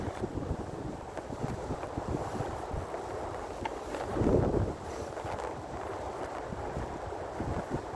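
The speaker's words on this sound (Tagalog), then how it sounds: "Dumadaan yung hangin sa mata ko." Steady wind buffets the microphone while cycling in cold weather, low rumbling gusts throughout, one stronger blast in the middle; no voices.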